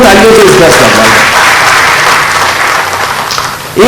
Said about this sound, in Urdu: میں چاہتا ہوں کہ آپ لوگ کم از کم تالیوں سے اس کا استقبال کریں